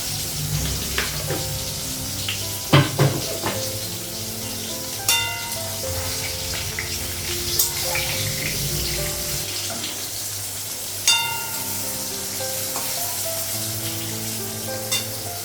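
Eggplant (brinjal) slices fry in a pan with a close, steady sizzle, broken by occasional sharp clinks and knocks of utensils; no one speaks.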